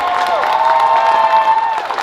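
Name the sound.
convention crowd applauding and cheering for guests of honor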